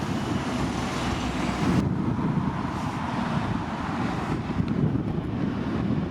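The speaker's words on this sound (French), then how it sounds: "Il y a du vent sur le détroit." Steady wind roars outdoors over the Strait of Gibraltar in a continuous broad rush, with a low rumble underneath and no voices.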